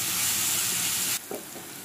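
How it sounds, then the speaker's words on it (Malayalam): Sliced onions sauté in a hot pan for Kerala meat rice, a loud dense sizzle that suddenly drops away to a faint hiss with a soft stir. "ഇപ്പം നമ്മുടെ സവാള ഇവിടെ നന്നായി വഴന്ന് വന്നിട്ടുണ്ട്"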